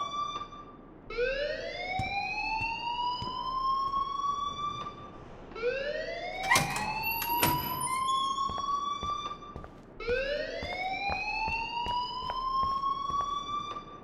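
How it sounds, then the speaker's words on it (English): A school alarm in the video game Life is Strange wails loudly in three long rising siren sweeps, each followed by a sustained tone, with a sharp electronic beep in the middle and no talking. "please turn off that alarm since that's your job."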